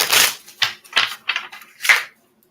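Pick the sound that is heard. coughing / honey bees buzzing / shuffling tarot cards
shuffling tarot cards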